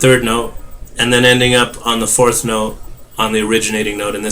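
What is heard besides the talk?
None of the usual background noises is heard.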